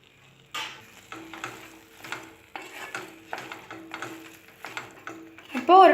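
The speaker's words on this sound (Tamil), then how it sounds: "இப்போ ஒரு 2 மினிட்ஸ் ரைஸ் வந்து நல்லா ஆயிலில் ஃப்ரை ஆகட்டும்." Soaked rice frying in oil in a pan, faint sizzling broken by repeated scraping and stirring strokes of a spoon, with a brief louder clatter near the end.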